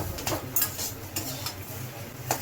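A utensil scrapes and clinks against a pan in a few quick strokes, mixing in ground black pepper, close and fairly quiet, with a faint background hum.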